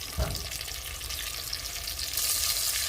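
Serrano peppers and onion hit a hot pan and fry with a steady close sizzle, a brief clatter near the start, and the sizzle swells louder toward the end.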